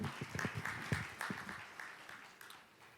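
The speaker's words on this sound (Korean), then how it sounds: "박수 부탁드릴게요." Audience applause at a business forum lecture as a digital strategy speaker is introduced, a short, fairly faint burst of clapping that thins out and fades over a few seconds.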